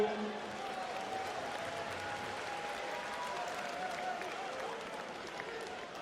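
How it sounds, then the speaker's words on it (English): A basketball arena crowd applauds steadily for the player Sako at a EuroLeague game between ASVEL Villeurbanne and AS Monaco, a dense sustained wash of clapping and crowd noise throughout. "Sortez sous l'applaudissement de Sako."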